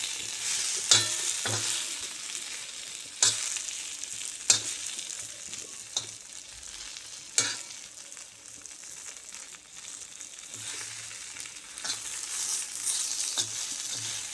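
Chilies and homemade masala roasting in a hot pan for black pavta bean curry, a steady close sizzle broken by occasional sharp clinks and scrapes of stirring.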